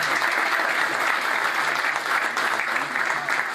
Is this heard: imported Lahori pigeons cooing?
no